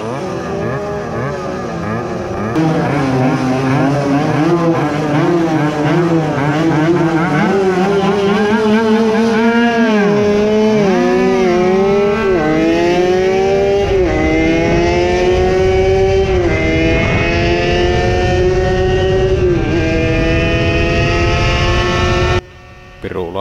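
Two drag-racing mopeds, an Erikois-S 50 and a Suzuki SL with a PV engine, home-made reed intake and CNC-milled cylinder, race at a speed event, their high two-stroke engines revving and climbing in pitch together, loud and continuous, then cutting off abruptly.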